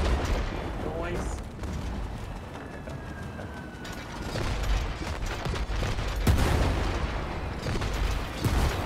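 Cannons fire in It Takes Two in scattered booms and blasts over mechanical clanking and rattling, with voices talking excitedly throughout.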